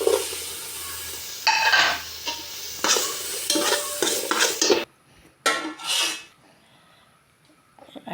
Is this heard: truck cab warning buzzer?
no